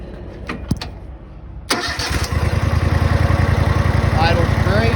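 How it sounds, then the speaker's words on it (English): An Exmark Lazer Z mower engine cranks and catches, then settles into a loud, steady rhythmic idle up close, with faint voice and clunks before it starts. "I'll go ahead and start it up right quick."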